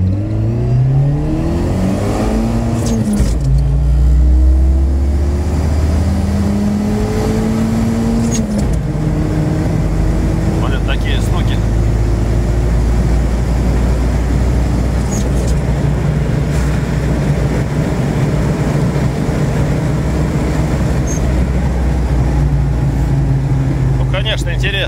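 A turbocharged Lada Niva heads downhill off-road, its engine revving with rising and falling pitch before settling into a steady loud drone, and someone talks throughout.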